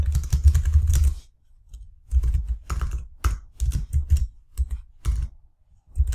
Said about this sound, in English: I just want to see if I'm typing it right.